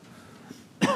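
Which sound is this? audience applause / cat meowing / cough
cough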